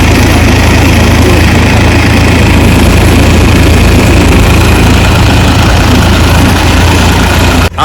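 A farm tractor engine runs loud and close with a steady, low, droning rumble that continues unchanged throughout, set against an outdoor field.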